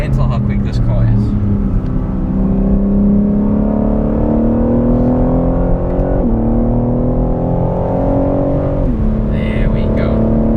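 A 2021 BMW M3 accelerates hard around a test track, its engine note climbing in pitch through the gears with brief dips at upshifts, loud and close from inside the car.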